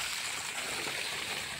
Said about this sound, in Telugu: ఎట్లా వస్తున్నాయి చూడండి వాటర్